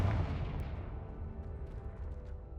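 A Confringo fire spell bursting in the video game Hogwarts Legacy: a single deep booming explosion that hits hard at once, then rumbles and fades slowly over a couple of seconds, heard alone without talking.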